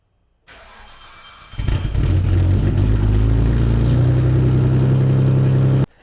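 A Nissan R34 Skyline, its paint hot rod red, fires up its engine with a brief crank, then settles into a steady, loud idle close by until it cuts off abruptly near the end.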